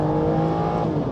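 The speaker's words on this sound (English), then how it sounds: "There's nothing like a V12." Aston Martin DB9 Volante V12 engine barking loudly on kickdown, a steady close, rich engine roar with strong low harmonics sustained throughout.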